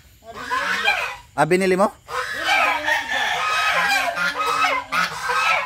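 Loud, close geese honking in repeated nasal calls, with people talking in Filipino over and between them.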